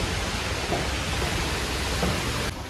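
Heavy rain pouring outside in Guwahati, a steady broadband wash of noise with no distinct drops standing out, continuous and fairly loud throughout.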